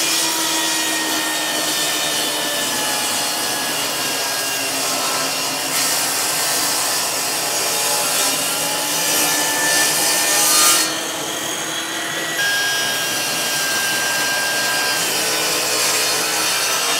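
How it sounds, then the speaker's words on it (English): A bandsaw cuts angled pieces from a block of wood for a wooden pen box, giving a continuous close, loud rasping hiss that shifts slightly in tone as the blade works through the cut. "and we'll cut these angles on the bandsaw."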